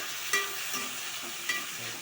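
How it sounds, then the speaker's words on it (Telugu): Tomatoes frying with onions and green chillies in a pan for a tuna curry, stirred with soft scraping strokes over a steady low sizzle, close and quiet. "టమాటా ఇలా కలిపేసుకోవాలి సార్."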